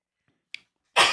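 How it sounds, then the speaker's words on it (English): A single loud, close sneeze bursts out at the end after a short inhaled breath and a faint intake sound, otherwise near silence. "I can already tell that I have to sneeze just as I'm saying this."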